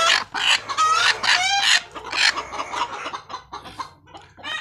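Egyptian Fayoumi laying hens on a Bangladeshi poultry farm cluck and squawk loudly and close by while eggs are gathered from under them, with one rooster-like crow in a dense, overlapping run of calls.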